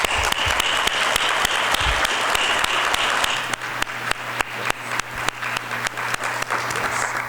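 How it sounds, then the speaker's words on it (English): Audience at a municipal leadership summit applauding, a dense steady wash of many hands clapping that thins slightly partway through, with a low hum beneath and no talk. "we can give a clap"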